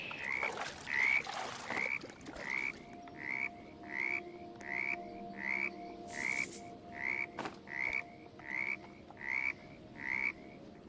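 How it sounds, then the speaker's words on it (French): Frogs croak in the video game 99 Nights in the Forest, a regular series of about fourteen clear, evenly spaced croaks repeating roughly every two thirds of a second over a quiet ambient background. "Les grenouilles."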